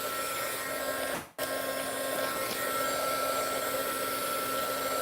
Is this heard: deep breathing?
no